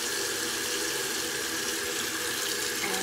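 Steady running tap water pours continuously while holes are washed and rinsed, a loud, even hiss and splash with no talking.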